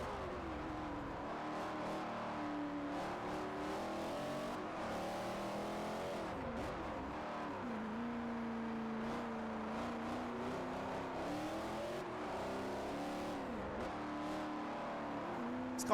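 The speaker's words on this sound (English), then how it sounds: "I've got a Ferrari. It's got a V12 in it." A high-revving Ferrari V12 race car engine in the video game Forza Motorsport 4 roars continuously, pitch rising and falling through gear shifts, with a faint tire squeal in places and no talking.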